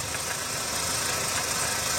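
A used car's engine idles steadily with a continuous mechanical hum and faint ticking, close up and fairly loud.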